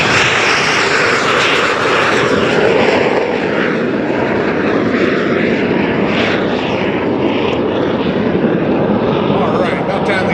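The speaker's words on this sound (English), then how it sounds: "about time we have a little jet noise on the ramp" An Aero L-29 Delfin jet aircraft runs on the ramp at an air fair, giving a loud, steady, close roar that fills the whole stretch without letup.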